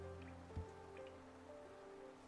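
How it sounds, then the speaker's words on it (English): Rain falls on glass in the video game Hollow Knight: a faint, steady patter with occasional soft drips over a low ambient hum, no voices. "I so love the sound of rain upon glass."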